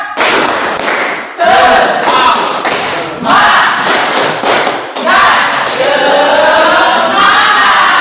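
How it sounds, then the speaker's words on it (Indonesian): A classroom of students performs a rhythmic spirit clap before a lesson, loud bursts of unison clapping and thumps in repeated patterns, with children's voices chanting along in between. "Tepuk semangat"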